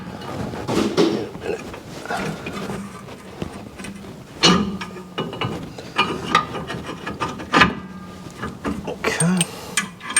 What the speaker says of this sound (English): So you're gonna need a 22 millimeter socket to install these ones on